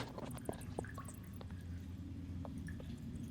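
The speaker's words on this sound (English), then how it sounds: "the dripping of water is the first thing you hear" Faint water dripping in a dark fantasy dungeon room, a few sparse drops plinking over a steady low rumbling ambience, distant and quiet with no voices.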